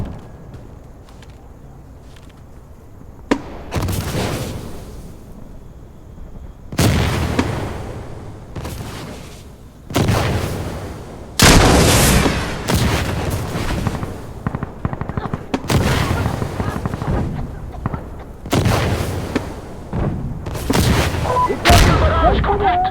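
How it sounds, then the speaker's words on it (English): Artillery barrage in the shooter game Insurgency Sandstorm, with chemical mortar rounds falling on a street: a series of heavy booming blasts and crackling impacts come in bursts, loud and close, between quieter gaps. "Barrage complete."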